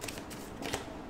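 Tarot cards riffling and flicking in quick, papery bursts, fairly close and steady throughout, with a slightly louder flutter near the end.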